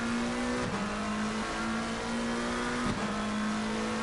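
A GT3 race car engine in Assetto Corsa Competizione at the Misano circuit drones steadily at high revs, dipping briefly twice as gears shift and then climbing again, loud and continuous with no one talking.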